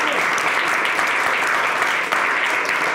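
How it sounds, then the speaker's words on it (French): Studio audience at a French political talk show claps steadily and loudly, a dense, even round of applause that holds for the whole stretch. "on peut vous applaudir aussi"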